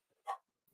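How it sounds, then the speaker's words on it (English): A single short, faint dog bark pops out of near silence, followed by a softer brief yip a moment later. "If you hear the dogs barking, it's about that time."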